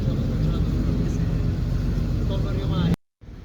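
Third-generation 1980s Chevrolet IROC-Z Camaro, a classic American V8 muscle car on a street in Milan, Italy, giving a steady, loud, close exhaust rumble that holds for about three seconds before cutting off abruptly.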